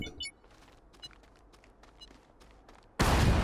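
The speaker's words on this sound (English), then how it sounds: "and explode it with a piece of dynamite" A medium gas canister blown up with dynamite in Astroneer, heard as a sudden loud, broad explosion near the end that cuts off a quiet stretch of faint ambient ticks and crackles.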